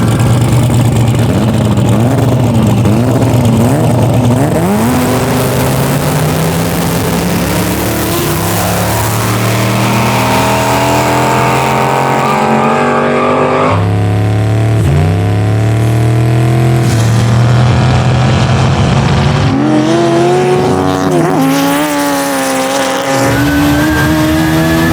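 A Camaro SS and a sleeper EG Honda Civic drag race, engines screaming loud and close as they rev and climb through gears with sharp upshifts, sustained roaring acceleration throughout with no talk.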